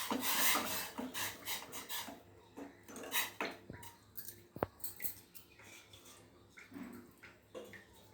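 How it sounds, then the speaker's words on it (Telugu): A ladle stirring jaggery dissolving in boiling water in a pot, heard as repeated close scraping and rubbing strokes against the metal with occasional clinks. "ఇలా మరుగుతున్న నీటిలో బెల్లం వేసిన తర్వాత బాగా కరిగే వరకు గరిటెతో తిప్పాలి."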